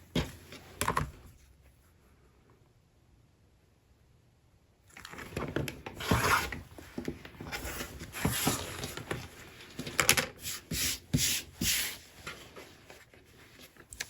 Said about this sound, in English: then I will trim any excess that I have off.